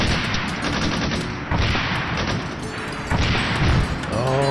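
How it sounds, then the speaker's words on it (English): Rapid bursts of gunfire from the video game ARMA 3, loud and continuous with overlapping shots, heavy impacts and booming reports across the whole stretch. "I'm not sure who in the world is shooting at me here."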